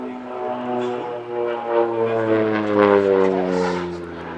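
OV-10 Bronco twin-propeller aircraft making simulated strafing runs at an air festival, its engines droning with a rising and falling pitch as it sweeps past at a moderate distance.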